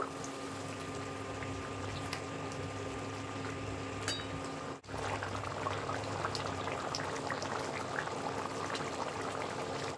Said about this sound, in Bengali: তো দেখো বন্ধুরা ঝোল কিন্তু ভালোভাবে ফুটে গেছে। এবার ভেজে রাখা মাছ আমি দিয়ে দেবো, দিয়ে খানিকক্ষণ ফুটিয়ে নেব।